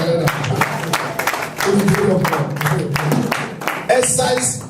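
Church congregation clapping during a sermon, a run of sharp hand claps in uneven bursts, mixed with voices talking and calling out over the top, moderately loud in a reverberant hall.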